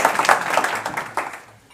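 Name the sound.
audience applause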